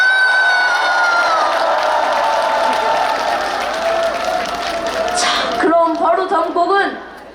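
A large crowd at an outdoor temple concert in Sinchon, Seoul, claps and cheers loudly and steadily. High whistles and shouts rise over it before the noise fades out.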